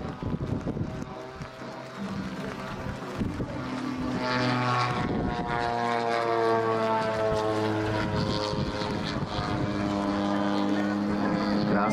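A propeller-driven aerobatic airplane performs at an air show, its engine droning with a strong, shifting pitch as it climbs and dives, rising in loudness and staying prominent throughout.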